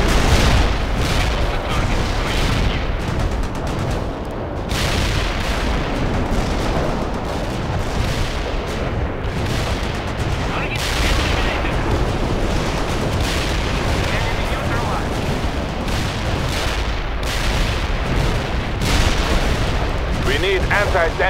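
Relentless artillery and gunfire in the World in Conflict battle of Berlin, loud dense booms and rapid shots overlapping continuously throughout, with radio voices talking over the barrage.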